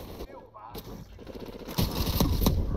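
Gunfire in the shooter game Call of Duty: Modern Warfare Remastered: close, rapid bursts of automatic shots that grow louder and denser toward the end, mixed with a speaking voice.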